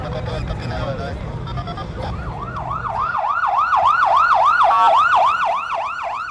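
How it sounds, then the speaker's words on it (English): A wailing siren in Juárez rises and falls repeatedly, growing louder as traffic noise gives way to its steady looping cry. "If any sound sums up Juárez, it's the sound of sirens."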